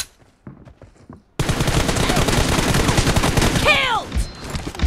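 Rapid automatic gunfire bursts erupt loudly in an online shooter video game, dense and continuous after a quiet start, with ricochet-like whines near the end and a voice faintly speaking before the shooting.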